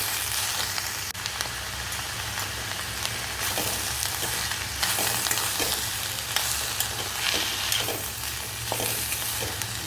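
Onions with salt frying in a pan while being stirred, a steady loud hissing sizzle with intermittent scraping stirs, close up and continuous, with no talking.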